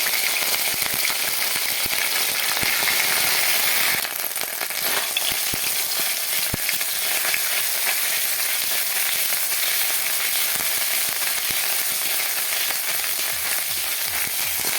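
Garlic and ginger fry in a pan with a steady, close sizzle and crackle that runs the whole time, with a few sharper pops and no talking.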